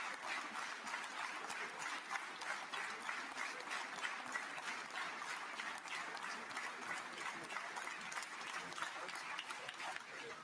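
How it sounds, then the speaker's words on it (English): Knesset members stand and applaud in the chamber, a dense, sustained wave of clapping with a loosely rhythmic pulse, heard from a distance at a faint level throughout. "Soviet-style clapping."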